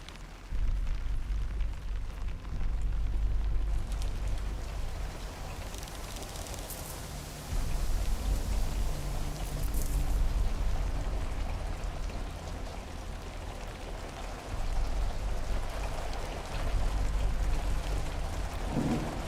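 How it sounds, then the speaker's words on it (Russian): Steady rain pours in a video game trailer shown at Summer Game Fest 2023, a dense, continuous hiss layered with low rumbles that swell and fade, with no voices over it. "Вот мне очень нравится звук дождя, короче."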